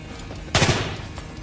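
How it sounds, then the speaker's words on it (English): A gun fired on burst mode at a target during an accuracy lesson lets off a single sharp, loud, close burst that cracks out and then rings down briefly in a quiet indoor space. "Now, on the second half, you go to burst fire."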